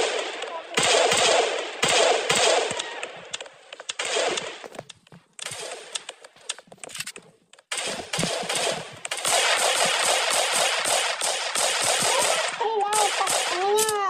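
Shotgun gunfire in the Roblox video game, loud rapid bursts of shots in clusters separated by short pauses, with a brief gap of quieter sound midway.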